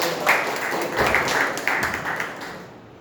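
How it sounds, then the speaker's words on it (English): Audience applause at a group meeting, a dense wash of clapping from a room of people that swells and then thins out over a few seconds, no talk over it. "So give a round of applause."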